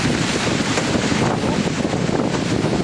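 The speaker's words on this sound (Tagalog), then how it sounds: "Ang hangin." Strong wind on Boracay island during a storm, roaring steadily and loud as it buffets the microphone without a break, with no voices over it.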